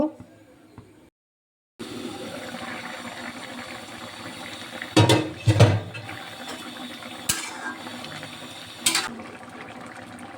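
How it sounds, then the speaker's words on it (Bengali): Water is poured into a pan of pumpkin curry that has been fried down in spices, giving steady cooking noise with a few louder splashing, sputtering bursts partway through, alongside a voice. "এবার ঝোলে জল দিয়ে দেবো।"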